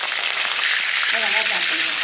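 Fennel seeds splutter in hot oil as a wedding-style potato masala begins, a steady dense crackling sizzle with a brief voice heard over it.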